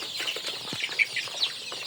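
Native chicks in a winter brooder shared with Fayoumi chicks give soft, scattered peeps and clucks, a dense high chatter of many birds with a few brief louder calls standing out.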